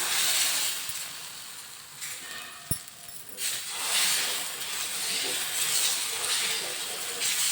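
Egg dosa batter hits a hot iron pan with a steady, fairly loud sizzle and hiss, swelling after a sharp clink near the three-second mark and continuing broadband throughout.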